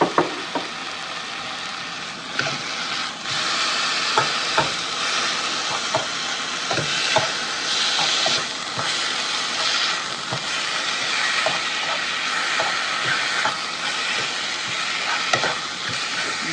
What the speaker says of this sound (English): Let that cook and get browned up.